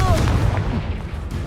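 A Confringo fire spell explodes in a Harry Potter-style fantasy video game battle, a dense, rumbling booming blast that fills the clip with loud low-end crackle alongside overlapping game effects.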